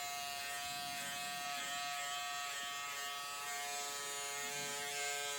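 A small handheld peanut electric hair clipper hums with a steady, faint, even buzz as it cuts hair, continuous for several seconds with no break or voices.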